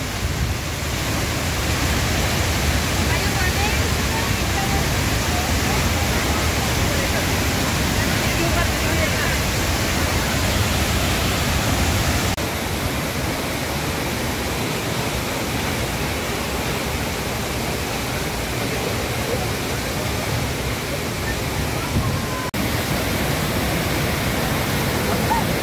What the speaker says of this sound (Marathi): हा छोटा धबधबा आहे, पण या धबधब्याच्या जवळ आपल्याला येता येते.